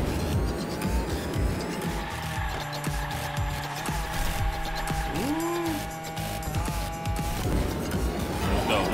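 Race car engine droning steadily with tire squeal and a sweeping pitch swoop as it drifts through a turn in Hot Wheels Unleashed on PS5, loud and continuous over game music, with brief impacts.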